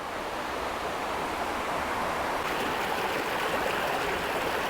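Steady rushing water flows continuously, a dense even wash of sound with no voices.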